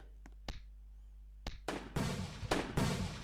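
Fireworks firing in the Roblox game Toilet Tower Defense: a few sharp pops, then a run of loud, dense crackling bursts that rise and stack up. No voices are heard.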